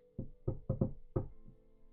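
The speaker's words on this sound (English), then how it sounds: "I knock." Knuckles rap on a wooden door in a quick cluster of about five close, crisp knocks, with a fainter final tap trailing after.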